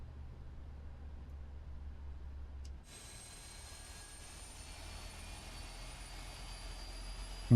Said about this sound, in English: We can go ahead and start our engine, starting the right engine.